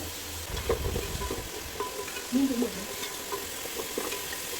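Onions sauté in a pan with chopped coriander and mint leaves, a moderate sizzle with stirring scrapes and a few utensil taps, plus a brief murmur of voice in the middle.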